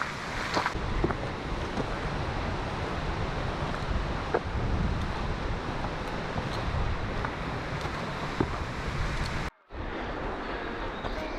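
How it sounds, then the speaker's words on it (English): Continuous rushing of a waterfall at Pam's Grotto in the Ozark National Forest, a dense, even roar heard close up that cuts out briefly near the end before resuming. "let's go see if the water's flowing. This is my favorite waterfall."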